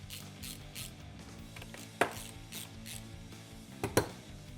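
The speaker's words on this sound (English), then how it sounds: "take the fasteners off the outer cover here" Dome nuts being unscrewed from the outer engine cover of a Triumph 650 motorcycle engine, with a steady ratcheting and rubbing of tools and two sharp metallic clicks close by, no voices.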